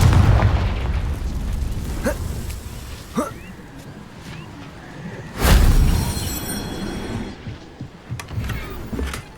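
Confringo blasting spell in Hogwarts Legacy, with several short pops and thuds and one loud booming explosion near the middle, followed by scattered crackles and a fading rumble.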